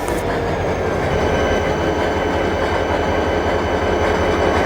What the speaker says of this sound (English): Franklin was about to take a boxcar train to Highland Valley